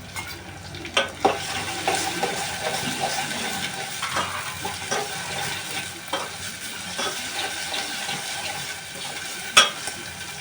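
Tomatoes frying in a pan for egg curry, a steady sizzle broken by repeated stirring scrapes and utensil knocks, one sharper clank near the end.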